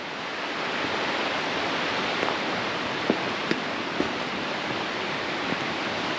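Creek water at Hurricane Creek in North Carolina, beside a campsite, rushes in a steady, broadband wash close by, with a few faint clicks over the constant flow and no talking.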